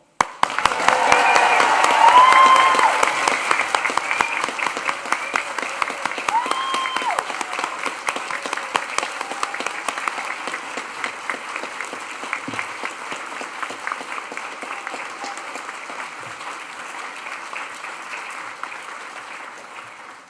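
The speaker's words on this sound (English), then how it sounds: "let's raise the roof with a huge cheer and round of applause" A large crowd at a university graduation ceremony bursts into sustained applause and cheering, loudest at the start and then settling into steady clapping that slowly tapers off.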